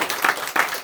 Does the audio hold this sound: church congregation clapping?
yes